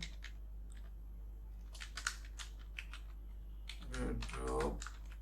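Keys clacking on a computer keyboard while Python code is typed, scattered quiet taps at an uneven pace, followed by a louder stretch of rapid clicking near the end.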